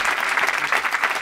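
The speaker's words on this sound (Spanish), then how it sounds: "Un aplauso para quien sea." A short, loud burst of studio audience applause on a comedy talk show, with dense clapping throughout.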